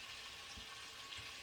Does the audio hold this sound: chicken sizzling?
yes